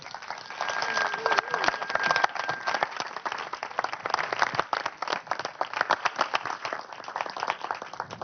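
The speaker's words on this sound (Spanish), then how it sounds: "Un fuerte aplauso." A large audience claps steadily at a talk on the storyboard of Robot Dreams, a dense continuous wash of applause that holds evenly throughout, with faint voices beneath.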